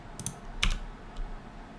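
A few light key presses on a computer keyboard, toggling a game's inventory open and closed; soft, close clicks spaced apart with no talk.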